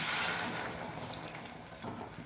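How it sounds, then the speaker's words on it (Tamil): Water poured steadily into a cooking pan while ivy gourd aviyal is being made, giving a continuous soft splashing rush that fades slightly toward the end, with no talking. "இப்போ தேவையான தண்ணி ஊற்றிக்கலாம்"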